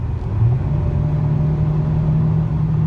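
A 2021 Hyundai Sonata SEL Plus with a 1.6L turbo engine accelerating, heard as a steady low engine drone that rises slightly in pitch, loud and close, without speech.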